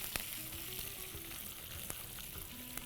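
Onion frying in oil with curry leaves on a simmering flame, a soft steady sizzle with a few faint clicks, quiet and close, no voices.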